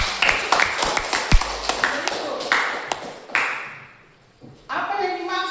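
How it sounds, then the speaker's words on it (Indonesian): A classroom of students claps hands, scattered sharp claps and taps at uneven intervals rather than a sustained ovation, with a brief loud knock, a quiet pause, then renewed activity. "Oke, mari kita berikan tepuk tangan."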